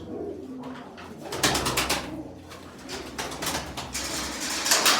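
Young Karagöz pigeons, close to fledging, coo in soft, repeated, throaty calls that rise and fall in overlapping bursts, close by and clear, with no talking.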